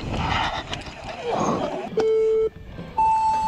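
Two loud electronic start-gate beeps from a Bluetooth speaker at a downhill mountain bike race start, a steady mid tone followed by a higher one, cutting through outdoor noise and background chatter.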